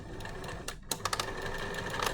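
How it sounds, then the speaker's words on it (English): A sewing machine stitches a straight seam in bias binding, producing faint quick mechanical clicks and short bursts of needle chatter with a brief gap, heard quietly and close up. "So I'm going to sew this seam down,"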